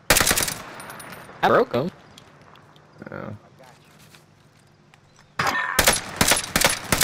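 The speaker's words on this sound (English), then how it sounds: "They started shooting at each other." Rapid bursts of automatic gunfire in a shooter video game, loud and close, coming in clusters at the start, briefly in the middle and in a long stretch at the end, with a player talking between shots.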